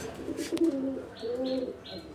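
A male pigeon at a market stall coos in two low, throaty phrases over steady background hubbub, with a short sharp knock before the first phrase.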